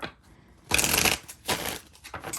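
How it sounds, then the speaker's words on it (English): A deck of tarot cards being shuffled vigorously, with two loud bursts of riffling and rustling paper noise close by, no voices. "you just watched me shuffle the old holy hell out of that deck"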